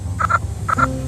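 In a children's audiobook reading of Little Blue Truck, a frog croak effect sounds as two close, loud pairs of quick croaks, with no talking.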